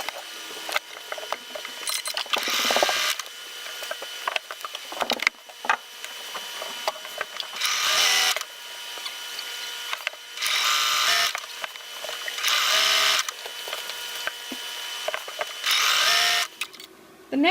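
Sewing machine stitching quilt binding strips together, heard in repeated bursts of whirring with short pauses between runs, moderately close and with no talking.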